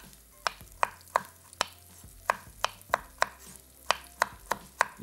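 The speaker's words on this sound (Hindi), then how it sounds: "इस तरीके से इसके रिंग काट लें, लेकिन याद रखिएगा बिल्कुल पतले ना हो" A knife cuts a vegetable into thick rings on a board, giving about a dozen sharp, close chopping knocks at an uneven rhythm, alone without any talk.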